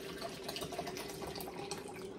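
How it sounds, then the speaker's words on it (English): Water is poured into a plastic cup in a continuous, close trickling stream with faint splashes, quiet and alone without talk. "I'm gonna pour the water in the cup."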